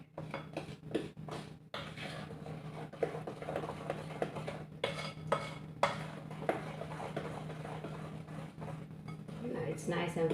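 Spatula scraping and stirring chocolate chip cookie batter in a bowl, with scattered clinks and soft scrapes repeating irregularly beneath a steady low hum and a person talking.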